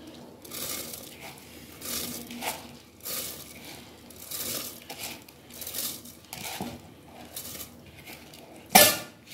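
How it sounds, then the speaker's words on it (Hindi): Washed rice is tipped into a pot of boiling water in a home kitchen, with repeated scraping, rustling and clinking of utensil against metal, ending in a sharp clank, close and without talk. "पानी अब इसमें चावल मैंने धो लिया है, पानी में बॉयल आ गया, अब मैं इसमें चावल ऐड करती हूँ।"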